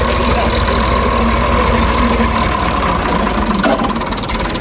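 A tractor engine idling at a college culture day event, a loud, steady close rumble with a slightly knocking mid-range throb that holds throughout and has no talking over it.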